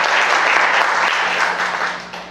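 Church congregation applauding during a Sunday service, a loud, close burst of many hands clapping together for a couple of seconds before tapering off.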